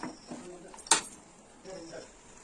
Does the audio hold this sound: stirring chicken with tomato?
yes